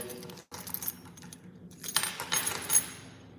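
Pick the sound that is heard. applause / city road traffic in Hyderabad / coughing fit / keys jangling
keys jangling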